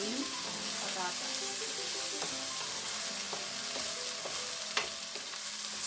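Corned beef and potatoes sizzle and scrape as they are stirred together in a hot pan, a steady loud frying hiss broken by a few spoon knocks, with no talking.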